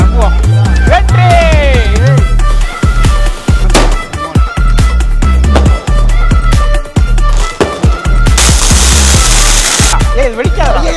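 Diwali firecrackers set off with a beer bottle pop as sharp, loud blasts in quick succession, with a long hissing burst of sparks near the end and excited voices shouting between the bangs.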